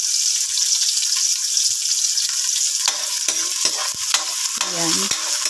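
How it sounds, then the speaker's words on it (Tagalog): Chopped onion and garlic sizzle steadily in hot oil in a pan, a constant frying hiss with scraping and stirring clatter from a utensil toward the end. "gigisahin na natin. Ayan, pagsabay guys, yung ating sibuyas at bawang para isang gisahan"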